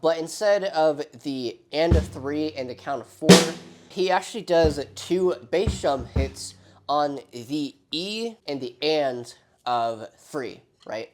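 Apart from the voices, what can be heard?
No distinct noise like a dog, phone or traffic.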